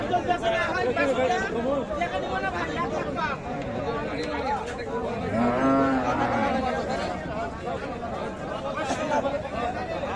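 Sahiwal cows and calves at a busy cattle market, with several close moos rising above constant crowd chatter and people bargaining over prices.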